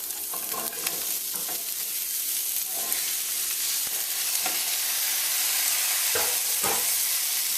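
Trimmed French beans frying in a pan over medium-high heat, a dense hissing sizzle throughout, broken by occasional stirring clatters and scrapes.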